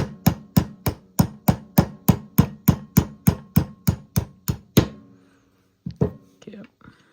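A super small hammer taps AR-15 trigger pins lightly, a quick, even series of about fifteen close, crisp metallic knocks, followed by a short pause and a few scattered softer clicks and handling noises.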